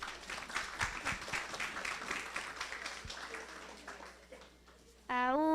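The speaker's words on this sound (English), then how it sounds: "Please give them a round of applause." Audience applause at a community outreach program, many hands clapping fairly quietly and tapering off, then a sustained melodic voice begins abruptly near the end.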